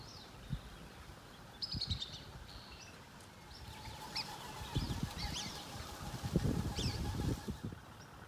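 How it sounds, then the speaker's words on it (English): Geese honk in scattered calls at a moderate distance at Red Lilly Billabong in Kakadu, with low rustling and thumps nearby, growing busier toward the end. "Geese or ducks as well."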